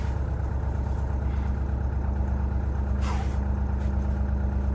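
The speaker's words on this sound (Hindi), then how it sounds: "चलो गाड़ी स्टार्ट हो गई एट लास्ट।" A Mahindra Thar engine idles steadily just after a hard cold start in freezing winter weather in the Spiti mountains, a close, even rumble with no talk.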